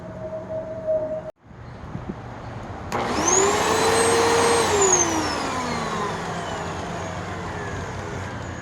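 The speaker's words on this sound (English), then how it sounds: "I wonder if the brush roll spins." Motor of a partially surviving curbside vacuum cleaner starts up after a brief silence, its brush roll spinning as the pitch whines upward, holds steady, then slowly winds down; close and loud, with no talking.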